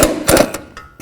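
A ratchet clicks in short bursts while snugging brake bracket bolts on a Chevy Malibu during a front wheel bearing job, several quick ticks close by with no voice.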